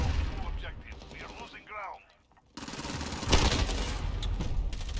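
Gunfire in the Chuckwalla shooting game, with rapid bursts of shots under excited talk from players.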